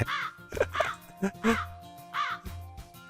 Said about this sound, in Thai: คอยดูนะคอยดูพอถึงต้นไม้ปุ๊บอีการ้อง นั่นไง